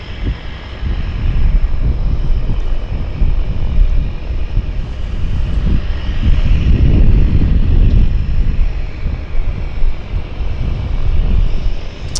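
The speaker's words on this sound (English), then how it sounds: "we have 2 aircraft taxiing in" Fixed-wing floatplanes taxi in on the water at Vancouver's downtown harbour airport, a steady, fairly loud engine drone with wind buffeting the microphone, swelling slightly midway through.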